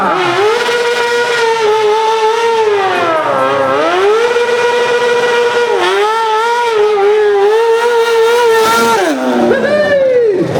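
A stunt motorcycle drifts at a stunt riding championship, its rear tire squealing in long, loud, wavering whines that rise and fall with several sharp dips, continuous and close throughout.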